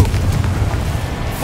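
A Confringo blast from a wand in Hogwarts Legacy erupts as a loud, close, continuous booming rumble lasting about a second and a half.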